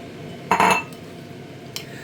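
Tofu goes into a bowl with utensils: one clear clink and scrape of metal against the dish, then a lighter tap near the end, in an otherwise quiet kitchen.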